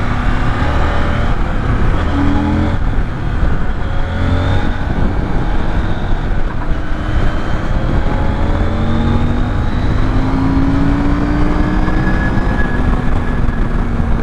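A CFMoto MT800 motorcycle accelerates with a loud, continuous engine drone whose pitch climbs through gear changes, heavy wind rumble over it, recorded close from the rider's position and alone.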